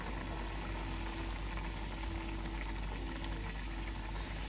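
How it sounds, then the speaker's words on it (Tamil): A pot boils steadily at close range, a dense continuous bubbling and hiss with a low rumble underneath and no voices. "நல்லா கொதிக்கட்டும்"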